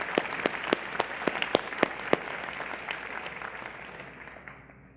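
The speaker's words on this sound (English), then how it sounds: "Please give these faculty your applause." Audience applause for faculty at a university undergraduate honors convocation, individual claps standing out at first, then a steady wash of clapping that slowly fades.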